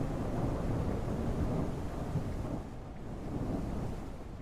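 Continuous thunderstorm ambience in the video game Out of Ore, a steady broadband rush of rain and low rumbling thunder, loud and unbroken, with a slight dip midway and no voices.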